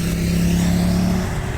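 A police car passes at a busy roundabout, a steady close engine drone with a low humming tone rising and then fading as it goes by, no talk over it.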